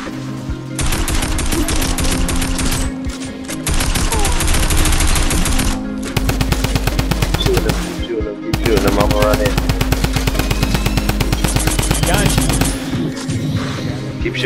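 Video game gunfire comes as long, loud bursts of rapid automatic shots in several stretches with short pauses between them, and voices are faintly heard in the background.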